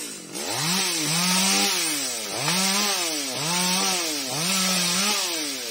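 A chainsaw cuts into a large golden wattle tree outdoors, its loud close engine rising and falling in repeated revving surges as the chain bites into the wood, steady and continuous with no voices.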